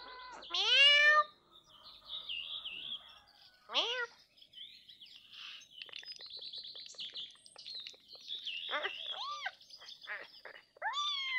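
A cat lets out a few drawn-out meows, one loud at the start and others scattered later, amid busy high chirping and tweeting.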